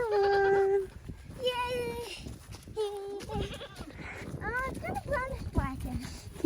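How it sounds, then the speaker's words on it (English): Young spring goat kids bleat in repeated high, wavering cries close by on a farm, overlapping one another while people talk and move around them. "can't have too many baby goats"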